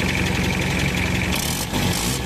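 A Mitsubishi Adventure engine with a leaking exhaust manifold gasket at the muffler pipe joint idles roughly, a close, steady low rumble with a slight uneven pulse, heard alone without talk.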